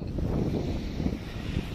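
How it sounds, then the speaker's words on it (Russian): Strong wind buffets the microphone outdoors at a seaside spot in Anapa, a constant low roaring rumble that fills the whole clip, loud and close, with no one speaking. "Ой, такой ветер прям сильный."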